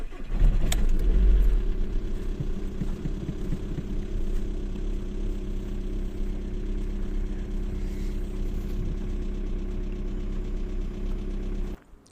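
A Skoda Octavia 1.9 TDI diesel engine cranks and fires up with a loud start, then settles into a steady, rumbling idle that runs evenly until it cuts off.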